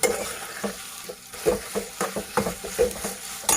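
Ginger garlic paste stirred with a spoon in a cooking pot for fenugreek and potato curry, with soft scraping strokes and a light sizzle, close and fairly quiet.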